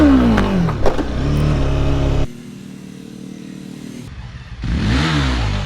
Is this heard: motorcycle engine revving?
yes